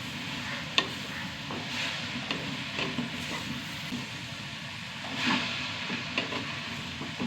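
Spinach sautéing in a pan makes a soft, continuous sizzle broken by rhythmic stirring scrapes and a few muffled knocks, moderately close and fairly quiet.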